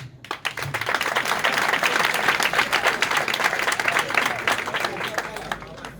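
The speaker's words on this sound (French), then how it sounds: "Je voudrais applaudir également Philippe Nzenge Maïla." A crowd at a political meeting in Gabon breaks into sustained, dense applause that swells and holds, with scattered cheers mixed into the clapping.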